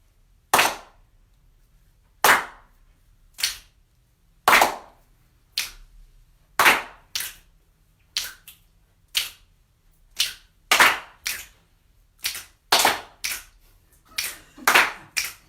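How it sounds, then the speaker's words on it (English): Crowd clapping along in rhythm at a choral singing workshop in Brussels, a repeating pattern of sharp claps, some doubled, holding a steady beat for several bars with nothing else in between. "So we're going to put a clap in like this."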